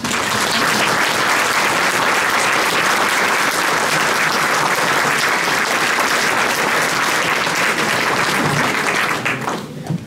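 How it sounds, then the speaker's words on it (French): Sustained applause from the audience at a mayor's New Year address in a Burgundy village, a thick, steady wall of clapping lasting about nine seconds before tapering off at the end. "je pense que vous pouvez les applaudir."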